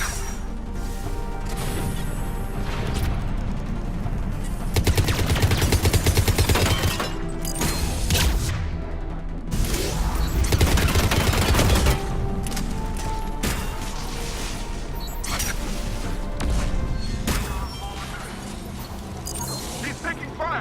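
Heavy gunfire in a Mass Effect 3 firefight, with rapid bursts, crashes and mechanical clatter going on throughout, loud and dense, while voices shout over the battle.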